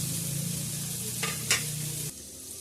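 Coriander leaves sizzle softly in a pan while capsicum chutney is being made, a quiet steady fry with a low hum beneath and a couple of brief stirring scrapes near the middle before the hum cuts off.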